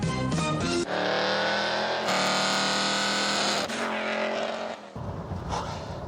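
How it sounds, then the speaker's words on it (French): A Lancia Thema 8.32 with the Ferrari 308 GTS V8 under the hood gives a loud, dense engine roar, steady for several seconds, easing off briefly, then surging again before dropping to a rougher, lower rumble at the end. "sous le capot, là, notre grosse routière, on a le V8 de la Ferrari 308 GTS"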